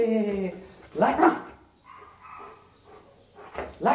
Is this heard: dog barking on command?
yes